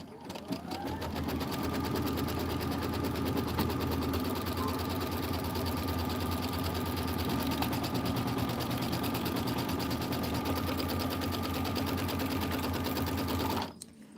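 A sewing machine stitches continuously at steady speed for about thirteen seconds, loud and close, stopping abruptly at the end, apparently while quilting filler blocks and borders.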